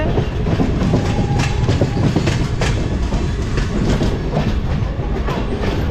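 A train rumbles along the rails with steady rhythmic clickety-clack, loud and close throughout, no voices.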